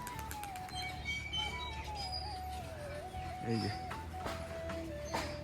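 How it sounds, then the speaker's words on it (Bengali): A young black pigeon at a home pigeon loft coos softly, with faint chirps and other bird calls nearby and a person talking over the quiet backdrop. "এখানে আমার বাড়ির এই যে কালো পায়রার বাচ্চাটাও আছে"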